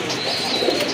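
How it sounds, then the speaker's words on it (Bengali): A large male Red Andy pigeon calls close by with one continuous, fairly loud cooing phrase and no talk over it. "তারপরে মাদিটা আমি ধইরা নটটা মানে নর ডাকটা একটু দেখাই দিই"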